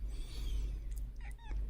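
A young kitten lets out a couple of short, rising meows near the end, close and clear over a low background hum.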